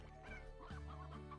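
Hens clucking inside the video game Slime Rancher, a steady run of close, overlapping clucks and squawks over a constant game-music bed, with no talking.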